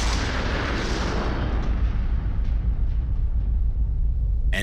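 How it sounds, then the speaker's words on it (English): Tannerite detonated by rifle shots, shown in slow motion: a long, stretched, rumbling explosion that fades gradually and ends in a brief sharp burst. "Let's watch that explosion in slow motion."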